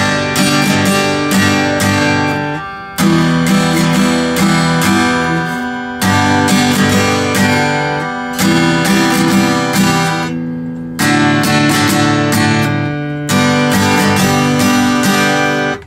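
A freshly restrung acoustic guitar strummed in loud, ringing chord bursts of about two to three seconds each, with brief gaps between phrases, close and alone with no talk.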